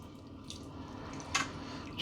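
Homemade butter is washed and pressed in cold water, giving faint wet squishes and drips, with one sharper squelch near the end, quiet and close.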